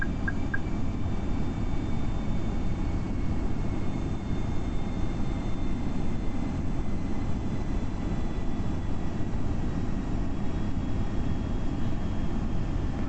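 An Airbus airliner's engines run at idle thrust after landing in Rome, a steady broad roar with a faint high whine, continuous and unbroken throughout.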